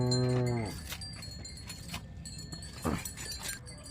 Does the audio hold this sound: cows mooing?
yes